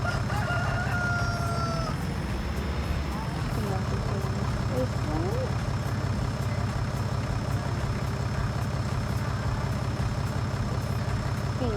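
Chickens cluck in the video game Farming Simulator 19, with a brief crow early on, over a constant low droning hum.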